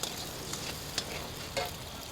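An egg frying in a pan with sukiyaki sauce, a soft continuous sizzle with a few brief clinks and stirs, close and fairly quiet.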